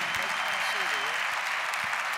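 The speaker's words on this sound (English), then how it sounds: "You deserve the biggest round of applause" An audience at the Gibraltar International Song Festival claps, a continuous dense wash of applause with faint voices mixed beneath it.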